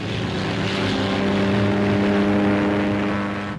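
Engines of World War II bomber and fighter aircraft at takeoff: a loud, steady propeller drone with strong low harmonic tones, sustained and close throughout, with no voices.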